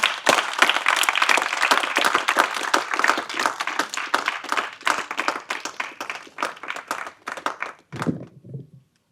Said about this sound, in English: Let's give a big round of applause for him.